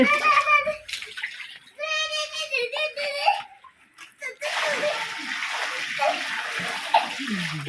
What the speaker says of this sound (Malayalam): ഇനി മക്കള് വെള്ളം കോരി ഒഴിക്കുകയാണ്